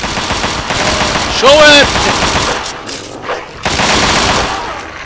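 A companion fires a big gun in Fallout 3, sustained loud automatic bursts of gunfire with a brief pause, while someone shouts over the shooting.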